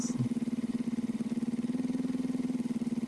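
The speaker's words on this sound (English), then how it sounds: "Now the engine doesn't sound like it's gonna break itself." A motorcycle engine in a pizza delivery video game gives a steady, close, throbbing idle rumble with an even pulsing beat throughout, with no voices over it.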